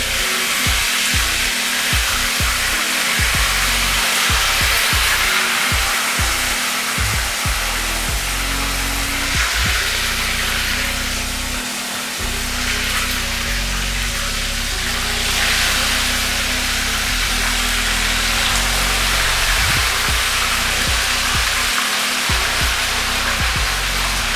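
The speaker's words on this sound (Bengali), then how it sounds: "তেলটা গরম হয়ে গেছে, এখন আমি একে একে চিকেনগুলো দিয়ে নিচ্ছি" Chicken pieces fry in hot oil for masala chicken fry, a loud, steady hiss that never lets up, with scattered low bumps and knocks beneath it and no talking.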